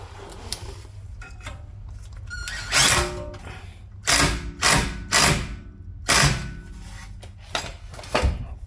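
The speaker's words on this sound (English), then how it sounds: "now we're going to put the install new rotor like that, and put T30 screw back in" A T30 screw being driven back in after a new brake rotor is fitted: a series of short, loud whirring bursts from a power driver, separated by pauses, with faint clicks and handling noises between.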